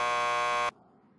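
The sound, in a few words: door buzzer at police lockup in video game Max Payne 2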